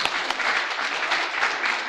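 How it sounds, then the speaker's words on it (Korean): Congregation applause in a Korean church, a short burst of dense hand clapping that fills the room evenly for about two seconds, close and fairly loud. "박수 한번 치시죠"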